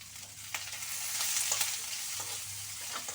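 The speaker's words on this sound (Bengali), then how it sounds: "এইবার এতে অল্পটুকু নুন দিই, যাতে পেঁয়াজগুলো একটুখানি নরম হয়" Onions frying in a pan after a little salt is added, a steady broadband sizzle running the whole time with a few brief stirring clatters, close and moderately loud, no talking.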